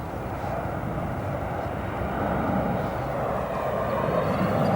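Reno Air retro livery airliner arriving on runway 27 center at O'Hare, a steady broad jet roar heard from a distance, continuous and slowly swelling a little louder over a few seconds.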